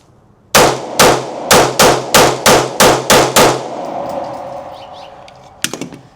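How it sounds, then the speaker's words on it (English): Ten rapid shots from a Staccato C2 pistol ring out close and loud in a quick, fairly even rhythm, followed by a fading outdoor echo and a few faint clinks. "just 10 shots trying to let it rip, see if I can just feel how it is to control the gun"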